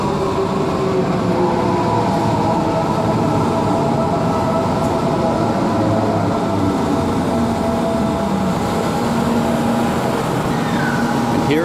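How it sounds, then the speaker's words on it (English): A train pulls into a station platform with a steady, loud rumble and rolling drone that holds throughout, layered with tonal whines from the cars and wheels. "And there's a train just arriving."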